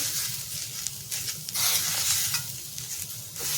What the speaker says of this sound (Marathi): कढईला खाली करपणार नाही असं हलवतच राहायचं चम्मचने